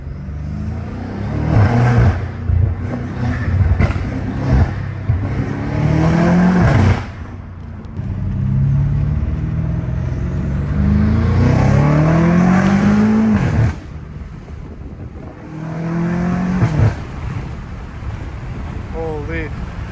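A BMW M5 Competition engine revs repeatedly in surges of rising pitch and falls back between them, loud and close, with wind noise and voices underneath.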